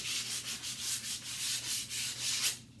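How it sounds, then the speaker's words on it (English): Sandpaper rubbed over a black chalk-painted Halloween prop to distress it, with quick rhythmic back-and-forth scratchy strokes, close and steady, no talking. "to run the sandpaper over it to give it that aged and distressed look"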